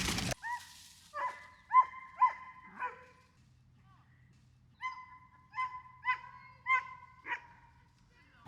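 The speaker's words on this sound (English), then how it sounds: "it's traffic hour in people that are walking their dogs" Dogs out for walks in a busy park bark in two spaced clusters of short, sharp yaps, moderately near, with a quiet pause between the bursts.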